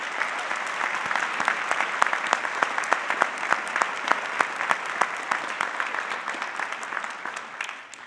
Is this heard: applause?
yes